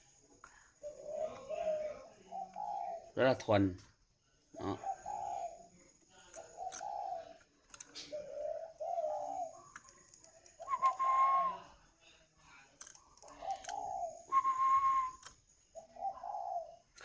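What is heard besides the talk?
spotted dove cooing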